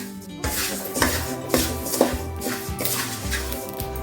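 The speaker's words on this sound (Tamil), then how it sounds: "மல்லி 1 கிலோ எடுத்துருக்கிறேன். இதை கொஞ்சம் கொஞ்சமாக வறுக்கணும்." A kilo of coriander seeds dry-roasts in a pan, stirred with rhythmic scraping and rattling strokes about twice a second, close and fairly loud, with no voices.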